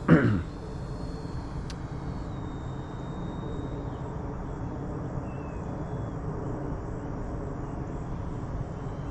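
Hobby King Flycat V2 RC electric ducted-fan plane flying at a distance, a thin steady whine over faint outdoor background noise after a brief louder sound at the start.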